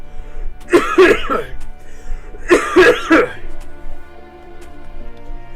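Two separate coughing fits, each a cluster of rough, forceful coughs close to the mic, with a short pause between them.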